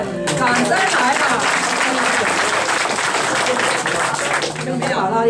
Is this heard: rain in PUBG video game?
no